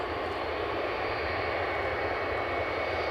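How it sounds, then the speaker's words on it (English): A Ryanair Boeing 737 Max 8 jet takes off at Edinburgh Airport in winter, giving a steady, broad engine roar that holds at moderate distance without letting up. "A Ryanair off somewhere. This is 737 Max 8."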